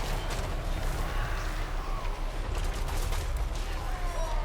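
Blunderbuss units fire spreading shots in a video game battle, producing dense, overlapping crackling volleys that rattle on continuously without a clear pause.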